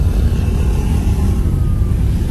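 A group of Honda Win motorcycles climbing a hill road: a steady, loud, close engine drone with a continuous low rumble throughout and no talking.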